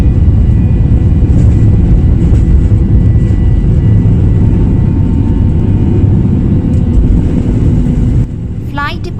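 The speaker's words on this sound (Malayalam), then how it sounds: "ഫ്ലൈറ്റ് ഇപ്പോൾ ജസ്റ്റ് ടേക്ക് ഓഫ് ചെയ്ത് ക്ലൈംബിംഗ് ഫേസിലാണ് ഉള്ളത്." Airliner on a Jeddah to Calicut flight climbing just after takeoff, heard as a loud, steady, broadband engine roar that fills the whole stretch and eases slightly near the end.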